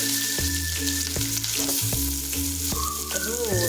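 Onions and spices frying hard in a hot steel tawa, a loud steady sizzle with repeated scrapes and stirring knocks throughout.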